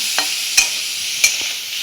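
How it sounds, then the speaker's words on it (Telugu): Boiled eggs frying with salt in a pan for an egg fry masala, giving a steady close sizzle with a few brief stirring scrapes and clinks of the spatula. "గోల్డెన్ బ్రౌన్ వచ్చినంత వరకు వేగించాలన్నమాట. ఈ కలర్ వచ్చినంత వరకు వేగించాలి."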